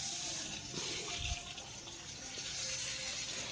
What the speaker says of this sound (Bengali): এইভাবেই কিন্তু মিডিয়াম ফ্লেমে পটলটাকে ভেজে নিতে হবে